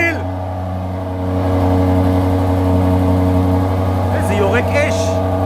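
An Aston Martin DBX engine idles low and steady, then swells into a louder, sustained rumble partway through, with a brief higher chirp near the end.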